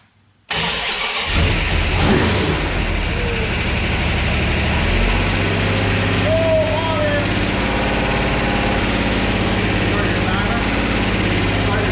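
A small block Mopar V8 fresh from cam break-in cranks and catches, then runs steadily at a loud, close, even idle-like drone with a few voices talking over it.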